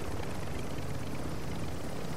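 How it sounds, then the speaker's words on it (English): Helicopter rotor blades in Call of Duty: Modern Warfare II, a steady loud whirring drone filling the whole moment with no talking. "watch out for those helicopter blades"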